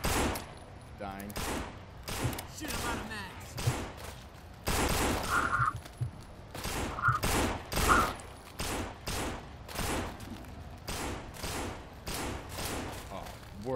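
Repeated gunshots ring out in a video game, evenly spaced loud bursts and volleys with thuds between them, while players talk over the shooting.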